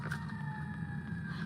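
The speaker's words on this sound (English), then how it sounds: "y'all hear the sirens going" A distant siren wails in a steady, sustained tone over low traffic rumble, heard faintly throughout.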